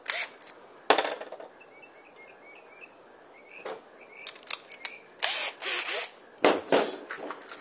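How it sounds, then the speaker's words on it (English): A power drill drives pan head screws into a wooden stakeout pole in short, whirring bursts of varying length, separated by quiet pauses, close up. "first we're going to go ahead and put screws alternating into the pole the whole way down"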